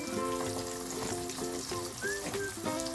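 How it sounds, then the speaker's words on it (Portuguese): A fish fillet fries in a pan of oil with a dense, continuous crackling sizzle that stays close and steady throughout, with no voices. "Até que frita o peixe"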